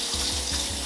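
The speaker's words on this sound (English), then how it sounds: "We got the hand washing." Hands being washed under a running kitchen tap, a steady hiss of flowing water with rhythmic splashing and rubbing pulses, close and fairly loud.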